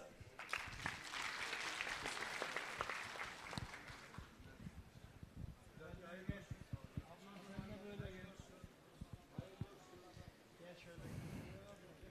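Audience applause at a disaster-housing key handover ceremony in Van, with a broad burst of clapping early that thins into scattered claps under voices and background noise.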